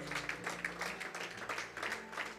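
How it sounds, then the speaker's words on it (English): A church congregation claps together during a worship service, a steady patter of many hands over low sustained music, moderately loud and continuous throughout. "Can we appreciate the Lord Jesus with a mighty clap offering?"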